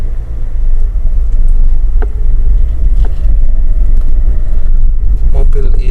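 A 2019 Daihatsu Sigra R with a manual gearbox on a test ride, heard from inside as a loud, steady low engine and road rumble, with a few faint knocks and some talk.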